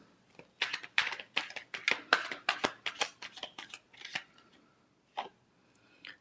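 Tarot cards are shuffled by hand in quick bursts of crisp riffling clicks, close and clear, thinning into a few scattered taps near the end, with no voices.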